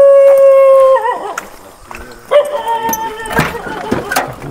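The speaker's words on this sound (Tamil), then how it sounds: "நாய் வேறு குலைக்குது." A dog howls and yelps close by, a long wavering tone breaking into sharp barks and whines.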